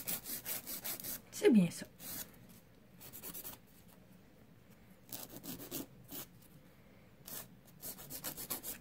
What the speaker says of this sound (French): Qu'on lime juste la démarcation pour être sûr qu'il n'y en a pas.